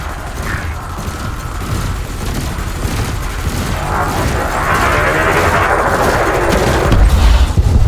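Ship-mounted multi-cannons in the space combat game Elite Dangerous: Odyssey fire in rapid mechanical bursts that build into a dense, loud rattle, ending with a heavy low impact.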